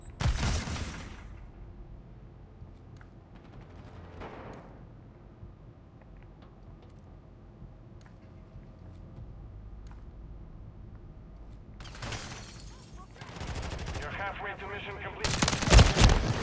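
Shotgun blasts in a Call of Duty match, sharp loud bursts of gunfire at the start and clustered again near the end, with quieter stretches of ambient game sound in between.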